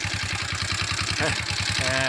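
Motorcycle engine idling nearby, a steady low throbbing pulse, loud and close throughout, with a voice speaking briefly over it near the end.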